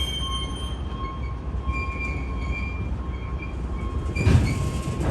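A freight train of covered hopper cars rolls steadily past a railroad crossing, a continuous rumble with tonal wheel squeal and a louder clank near the end.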